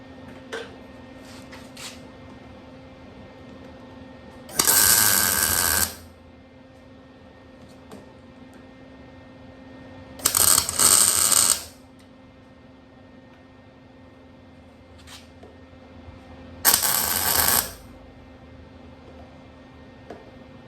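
Tack welding yard kart steering parts in a workshop: three separate bursts of loud crackling, hissing arc, each lasting about a second, with a low steady hum and occasional small clicks between, no talk.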